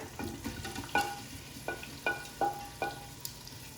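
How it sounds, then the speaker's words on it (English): Onion pieces are stirred in melted butter in an Instant Pot, giving a soft sizzle with a handful of distinct scraping and clinking strokes from a utensil, close and fairly quiet. "Okay, so the butter's all melted. We're gonna throw in our onion."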